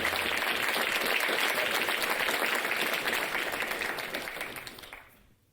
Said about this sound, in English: clap, ladies and gentlemen